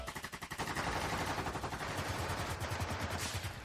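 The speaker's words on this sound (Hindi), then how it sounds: "हर तरफ से आती गोलियों की आवाज से मानो कश्मीर की घाटी दहक उठी हो।" Rapid, continuous automatic gunfire in an audiobook war scene set in the Kashmir valley, a dense rattling stream of shots with steady rhythm and no voices over it.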